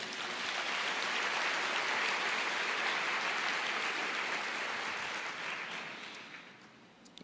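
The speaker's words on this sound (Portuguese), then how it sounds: "Você pode aplaudir o Senhor?" A church congregation applauds together, a dense, sustained clapping that carries steadily and then tapers off toward the end.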